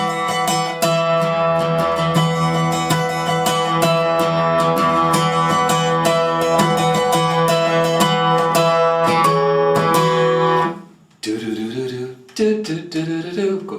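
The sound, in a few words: acoustic guitar playing a song's final interlude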